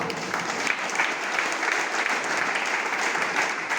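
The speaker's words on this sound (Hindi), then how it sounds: "मैं चाहूंगा इन सभी के लिए जोरदार तालियां" Loud, sustained applause fills a seminar hall as the audience claps for first-time attendees, a dense, even wash of many hands with no voices standing out.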